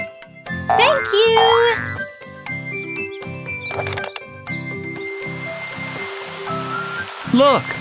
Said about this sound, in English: Look, the fountain is working!